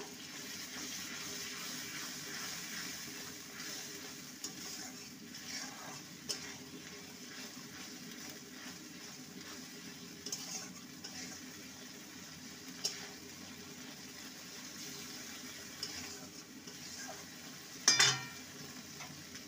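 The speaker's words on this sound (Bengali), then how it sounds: "যে পোস্তটা বেটে রেখেছিলাম সেটা দিয়ে দেবো। ভালো মতন কষিয়ে নেব।" Ground poppy seed paste is stir-fried in a pan with a soft sizzle and faint scraping under low, steady kitchen noise, with a brief sharper clatter near the end.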